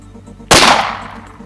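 A single sharp Glock 19 pistol shot at an outdoor shooting range, loud and close, its crack tailing off into a short echoing decay.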